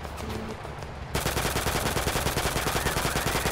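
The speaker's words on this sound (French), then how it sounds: "Je vois personne, mais ça tire." Gunfire in the game Total Conflict: Resistance starts abruptly as a loud, rapid machine-gun stream, steady and evenly spaced, after a second of quieter background battle noise.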